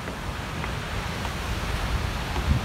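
Ocean waves break close to shore in a continuous broad wash of surf, fairly loud and steady with a slight swell toward the end, no voices.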